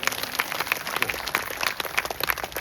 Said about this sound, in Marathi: एक वेळ त्या माऊलीच्या टाळ्या वाजवा